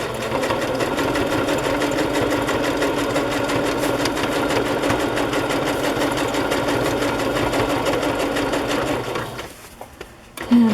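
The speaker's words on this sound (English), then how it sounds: "I'm going to sew down this edge of the little pink lace." A sewing machine stitches down the edge of pink lace on a fabric journal cover, making a loud, steady, close whirring hum for about nine seconds before winding down and stopping.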